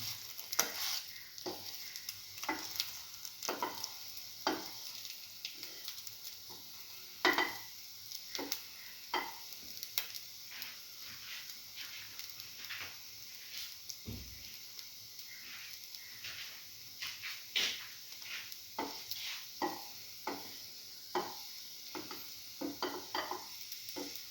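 Butter sizzles in a pan for cinnamon French toast, a faint steady crackle under repeated soft scraping and stirring taps of a utensil against the pan.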